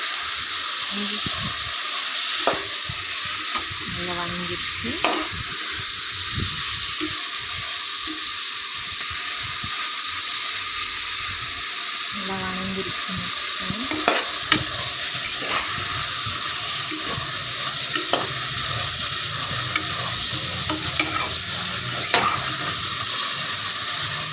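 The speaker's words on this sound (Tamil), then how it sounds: "உப்பு போட்டு கிண்டி விட்டுடலாங்க" Vegetables being stirred with salt in a pan while making vegetable biryani, giving a steady wet sizzle with scattered scraping clinks of the spoon throughout.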